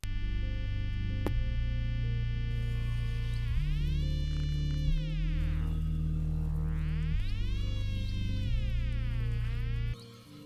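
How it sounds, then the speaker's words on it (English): Layered OP-1 synthesizer tones with warbling, sweeping pitch glides over a steady low drone, giving a bubbly, underwater feel; continuous and fairly loud, no voices. "All of those sounds are from the OP1, and I was just trying to find some very like aquatic synth noises."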